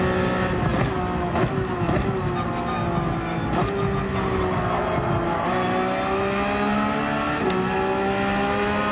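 Race car engine on the track at Yas Marina Circuit, loud and near, revving with rising and falling pitch as it accelerates, with a few sharp shifts and dips between pulls.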